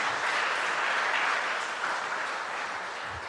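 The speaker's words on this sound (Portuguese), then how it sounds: "Quem crê, aplauda o Senhor por isso." A church congregation applauds together in a steady, dense wash of clapping that holds evenly and loud from start to finish, with no voices rising above it.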